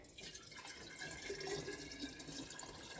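Water from a hand pump on an off-grid well, given a few strokes after a suction fix, splashes and drips steadily and close by, running continuously through the clip with no voices.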